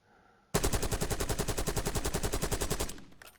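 A fast, sustained automatic-weapon burst in Call of Duty Warzone: about two and a half seconds of rapid, evenly spaced loud shots starting abruptly after a quiet moment, then trailing off.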